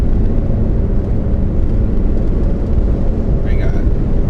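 A car drives down the road on a road trip, giving a steady, loud low rumble of engine and tyres throughout, with no clear voices over it.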